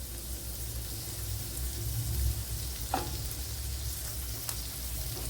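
Vegetables fry in ghee in a pan with a steady, close sizzling hiss and one or two brief crackles, and nobody speaks.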